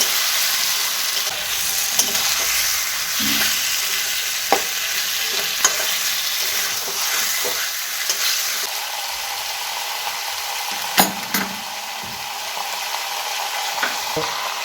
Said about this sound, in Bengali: মশলাটা ভালো করে মিশিয়ে নেব।